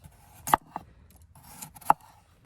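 A few sharp cuts of a Sencut Toxodon knife through food against a board, spaced irregularly, quiet and close, with near silence between strokes.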